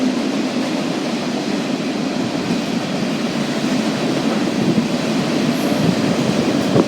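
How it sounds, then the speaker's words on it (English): Norfolk Southern freight train NS 196 rolls past at Blanchett, a loud, steady rumble of wheels and cars close by, with no voices. "I say this train is NS 196."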